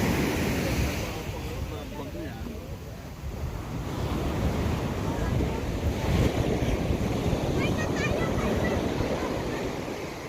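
Big ocean waves roll and crash on the shore under strong gusting wind that buffets the microphone, a dense continuous roar with surging swells, while people talk faintly in the background.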